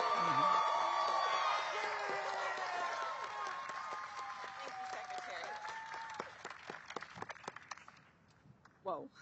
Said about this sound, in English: Let's give Juliana a round of applause.